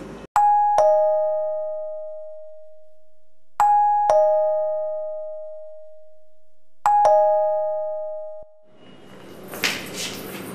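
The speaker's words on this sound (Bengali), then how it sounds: "এমন সময় কলিং বেল কে বাজে?" A doorbell chimes three times, each a two-tone ding-dong that rings out and fades over a few seconds in a quiet room, followed by a short burst of shuffling noise.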